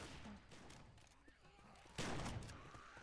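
Olympia shotgun blast from Black Ops 1 in Left 4 Dead 2, a single loud gunshot burst about two-thirds through, over continuous game background noise.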